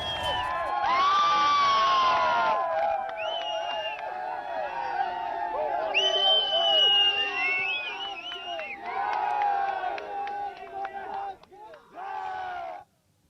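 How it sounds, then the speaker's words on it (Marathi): Crowds of Team India fans cheering and shouting as the team bus heads toward the hotel after the victory, loud overlapping whoops and chants swelling and falling, one brief dip near the end. "चाहत्यांनी जोरदार जल्लोष केलाय"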